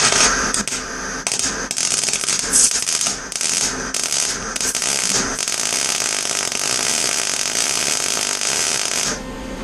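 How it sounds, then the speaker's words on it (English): Tack welding a bolt onto a broken RV door handle, a loud, continuous crackling buzz that holds steady for about nine seconds, close up and with no talking. "I'm going to put a little tack weld in there just to keep it completely secure."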